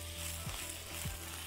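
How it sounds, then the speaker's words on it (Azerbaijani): Potatoes and carrots fry in hot oil in a pan, giving a steady, continuous sizzle that is quiet and unbroken, with no talking. "Qızğın bir yağda qızardırıq."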